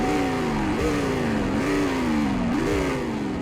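The Leland LTS6 car in the Greenville driving game revs repeatedly, its distinctive engine note climbing and falling in about three surges over a continuous loud drone, heard alone without speech.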